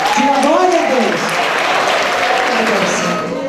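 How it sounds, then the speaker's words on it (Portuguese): A church congregation applauding during a service, dense sustained clapping and crowd noise throughout, with a voice singing or calling out over it. "Dá uma salva de palmas para Jesus."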